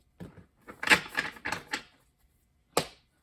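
Tarot cards are shuffled by hand in short bursts, a flurry of crisp riffling clicks followed after a pause by one final sharp snap, close and fairly quiet.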